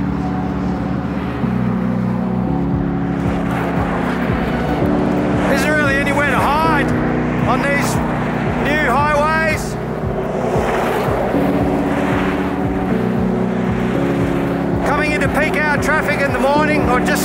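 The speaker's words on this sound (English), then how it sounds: "Traffic in the morning, or just starting, I suppose." Steady morning traffic rushes along a main arterial road heading into a large Australian city, a continuous roar from passing vehicles with swelling engine tones, while a person talks over it.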